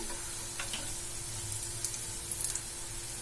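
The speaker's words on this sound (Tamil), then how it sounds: "ரெண்டு பக்கமுமே நல்லா ஃப்ரை ஆயிடுச்சு நம்ம எடுத்துடலாம்" Leftover idli pieces crisping in hot oil in a pan give a faint, steady sizzle with a few light crackles and a soft scrape or two.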